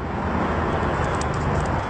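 A talented parrot imitates a car engine starting, giving a steady, rough, broadband rumble for about two seconds with no speech over it.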